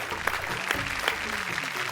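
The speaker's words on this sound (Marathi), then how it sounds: "एकदम जोरदार टाळ्या होऊन जाऊ दे." Loud applause from a studio audience on a Marathi television show: continuous, dense clapping close by at an even level, with a few sharper claps standing out and a faint murmur of voices underneath.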